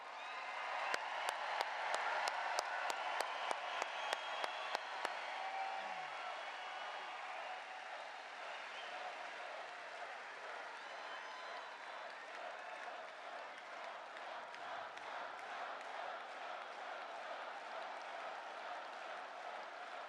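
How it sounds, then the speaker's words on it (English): Large rally crowd applauding the president, a dense sustained wash of clapping with a few sharp claps at the start, steady and moderately loud throughout. "Let's give a big round of applause for your president."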